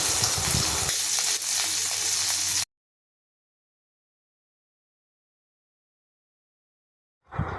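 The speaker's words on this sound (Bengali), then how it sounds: "এবার মশলাটাকে হালকাভাবে ভাজতে হবে।" Spice paste of cumin, green chili and ginger frying in a kadai for a mixed vegetable dish, giving a loud, steady sizzle that cuts off abruptly after about two and a half seconds, then silence before a brief noise at the end.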